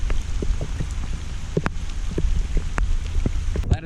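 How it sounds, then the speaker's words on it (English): Rain patters steadily on a surface nearby, with scattered sharper drops ticking through the continuous wash of sound. "And it's raining now."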